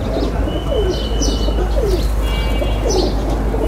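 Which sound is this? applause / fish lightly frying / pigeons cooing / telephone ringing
pigeons cooing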